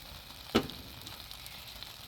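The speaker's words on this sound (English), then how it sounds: "I'm just gonna hit it with some water." Water splashed onto a hot Blackstone flat-top griddle with the heat turned off gives one sharp hiss burst, then a quieter, steady sizzle that carries on for a couple of seconds. No voices are heard.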